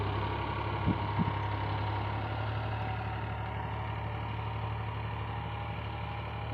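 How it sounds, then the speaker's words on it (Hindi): A tractor engine runs in a farm field, a steady low rumbling drone at constant level throughout, with a couple of faint knocks early on and no talk. "આપણે અહીંયા ખેતરમાં ટ્રેક્ટર હાલે છે"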